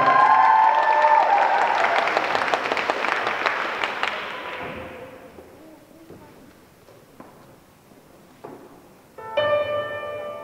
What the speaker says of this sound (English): can we have a massive round of applause for Hannah Dobson?